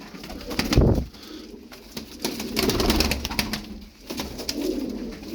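Pigeons coo in a loft as birds are sorted into a team, soft low repeated calls rising and falling in several bursts, close by and fairly quiet.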